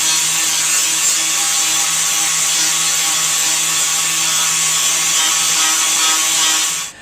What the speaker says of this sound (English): Now just putting a flap wheel into the grinder, clean up the edges so they're nice and clean to weld up with the MIG.